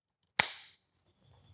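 One sharp crack from a toy gun firing, close and fairly loud, with a short ringing decay and quiet afterward.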